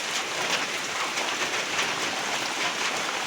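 Heavy night rain pours steadily on a rural home, a dense, even hiss of downpour on surfaces with no pauses and no voices.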